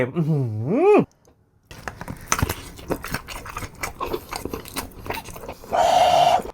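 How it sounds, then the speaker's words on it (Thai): Crunchy bites into a crispy-skinned sausage coated in Korean sauce with tteokbokki and cheese, several close crackling chews, with a voice speaking and a rising vocal swoop at the start. "หนังกรอบข้างในนุ่มแน่น ให้กินคำหนึ่ง"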